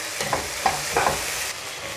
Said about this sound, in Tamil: இப்போ தக்காளியை நல்லா அந்த இஞ்சி பூண்டு பேஸ்ட் வெங்காயத்து கூட போட்டு நல்லா வதக்கி விட்டுக்கலாம்